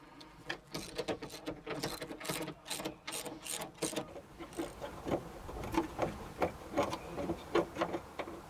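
Ratcheting clicks and scraping metal as the last bolt is backed out of a hydraulic boat steering helm bracket. The clicks come in quick rhythmic bursts, close and moderately loud, with no talking.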